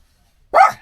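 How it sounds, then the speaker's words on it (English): A single sharp dog bark inside a van, close and loud, after a short silence, aimed at a fake dog on the door. "Archie, what are you barking at?"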